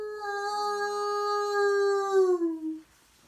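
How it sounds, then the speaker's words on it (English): A long, shuddering animal howl rising and holding on a clear tone, then sliding downward and fading out after nearly three seconds, heard from some distance downhill. "All of a sudden they heard a loud howl away downhill."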